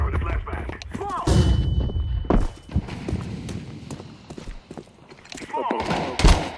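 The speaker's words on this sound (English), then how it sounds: "I'm throwing the flashbang" Counter-Strike 2 match with a flashbang grenade exploding: several sharp, loud bursts and thuds punctuate a dense in-game mix of gunfire and footsteps, with players talking over the action.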